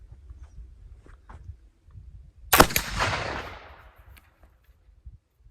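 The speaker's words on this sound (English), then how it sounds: "All right, shot number 3 with the Swiss." A single loud rifle shot fired with 3F Swiss black powder, a sharp blast midway through with a booming decay trailing off over about a second, set against quiet outdoor background.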